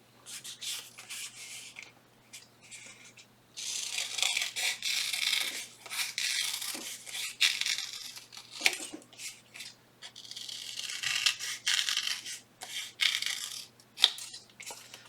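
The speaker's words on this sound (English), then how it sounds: "So I cut out 3 circles at the same time. Just kind of rough cut that quick." Scissors rough-cut three stacked paper circles at once in a close, uneven series of crisp snips and rustling paper strokes, with brief pauses between runs.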